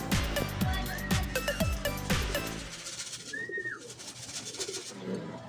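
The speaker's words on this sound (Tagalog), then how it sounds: "may dumating din tayong isang ibon, si IBE mga kalapatids." Racing pigeon arriving at the loft during a pigeon race, with a few close wing flaps and rustles followed by soft cooing calls, fairly quiet and alone.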